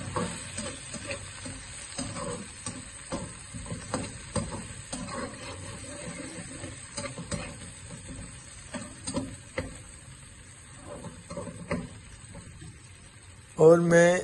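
Chopped garlic and green chilies sizzle in a pan as a spoon stirs them, giving soft scraping strokes over a steady fry, with a brief louder clatter at the very end.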